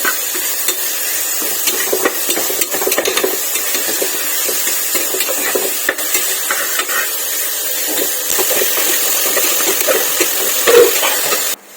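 Sliced onions with salt being stirred in a pan, a close continuous sizzle and hiss with scattered scrapes and taps of a spoon against the pan, steady throughout and without speech.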